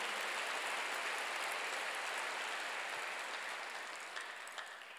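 A church congregation applauding, a steady dense wash of clapping that sounds a little distant and slowly fades toward the end, with no voices over it.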